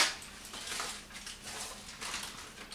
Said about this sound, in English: Now I'll add the shrimp back in